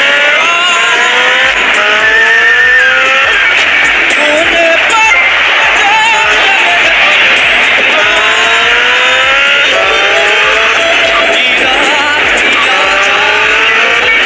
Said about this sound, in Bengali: এতক্ষণ আপনি দেখতে পাচ্ছিলেন যে আমি বাইকে চড়ছিলাম